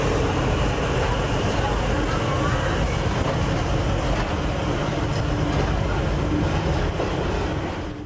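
A passenger train runs along the railway toward the River Kwai in Thailand, a loud steady rumble and rattle of wheels on track heard from inside throughout.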